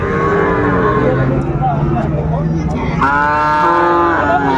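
Deep, drawn-out lowing from a bull at a cattle market, loud and close, one long moo rising into a strong bellow later, with a voice briefly underneath.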